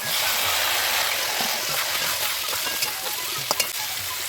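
Fried vegetables stirred into panch phoron tempering of mustard, radhuni, fenugreek, fennel and nigella seeds with bay leaf and dried chilli in hot oil for sukto, a steady close sizzle with scattered clinks of stirring toward the end.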